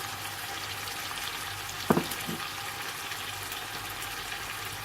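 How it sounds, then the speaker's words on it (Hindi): Chicken pieces fry in a pan for murgh cholay, a soft steady sizzle with a single brief clatter of stirring near the middle. "दो से 3 मिनट इसको हमने फ्राई कर लिया। अब मैं इसके अंदर डालूंगी टमाटर।"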